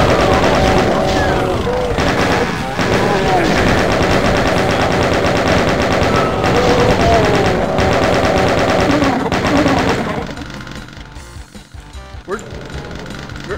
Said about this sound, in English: Now FUBAR has chain gun.